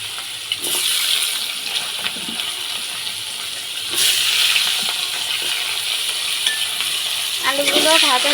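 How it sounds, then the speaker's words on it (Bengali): Potatoes fry in hot oil seasoned with cumin, hissing and crackling steadily in a pan, with occasional scrapes and clinks of stirring and a brief bubbling burst near the end. "আলুগুলো ভাজা ভাজা করে নেব"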